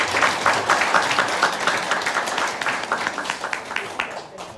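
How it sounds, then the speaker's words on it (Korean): Audience at a lecture event gives a short burst of applause, a moderate spread of hand clapping with individual claps audible, fading slightly over a few seconds. "앞으로 잘 성장하라고 응원의 박수 한번 부탁드리겠습니다"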